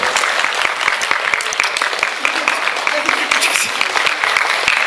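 Sustained applause from a concert crowd at a show in Truskavets, with dense, even clapping that continues at full strength, partly mixed with a voice speaking.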